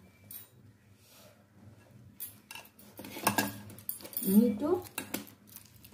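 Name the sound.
mashing boiled elephant foot yam with a spoon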